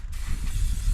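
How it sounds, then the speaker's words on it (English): Lubricant sprays onto a bicycle chain as the pedals turn backwards, giving a steady close hiss with a low rumble beneath it. The burst is short and there is no talking. "So all I'm gonna do is continue to spray"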